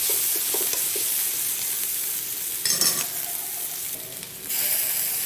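Soup ingredients sauté in a pan for a mutton and moringa leaf soup, a close steady sizzle with a few scraping stirs and a brief louder burst of frying partway through.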